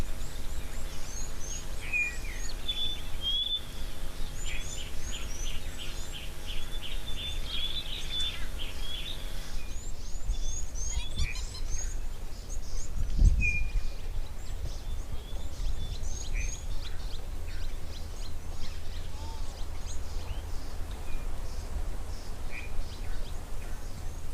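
Several birds call and chirp around a safari waterhole at Tau, with repeated high tweets and short whistles scattered over a steady outdoor background, some near and some farther off.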